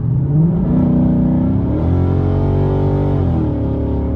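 A 2019 Ford Mustang GT with a 10-speed automatic accelerates hard from inside the cabin, its loud engine drone climbing, then jumping in pitch as the transmission downshifts, then rising steadily again.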